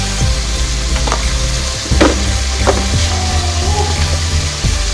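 Onion, tomato, garlic and ginger sauté with spices in a pan, a loud, close, continuous sizzle broken by a few scraping stirs.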